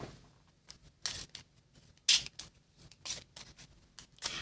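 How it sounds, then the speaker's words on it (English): A deck of cards is shuffled by hand during a solo fantasy board game, producing a series of soft, close riffling bursts and papery flicks at irregular intervals. "I should really shuffle this way so I can't see."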